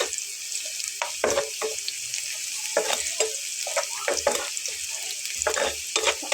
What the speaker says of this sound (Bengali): আরও একটু লাল কালার করে ভেজে নেব, অর্থাৎ ব্রাউন কালার।